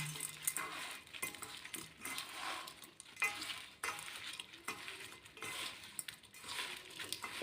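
A spoon stirs lemon pickle ingredients with sugar in a bowl, making a close, uneven run of scraping and wet clinking strokes that repeat in bursts from start to finish.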